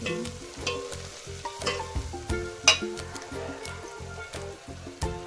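Whole spices and oil crackle and sizzle in a hot pan as a tempering is made for buttermilk kadhi, with dense close-up popping, a few sharp spits and some stirring, and no voices.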